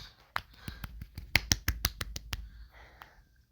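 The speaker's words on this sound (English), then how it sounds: "I'm just clapping my hands" Hands clapping in a quick run of about a dozen sharp claps, fairly close and crisp, then a faint trailing sound.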